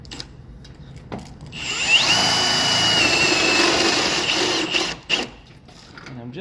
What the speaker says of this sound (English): I'm just going to be drilling to where I get to the outside of all those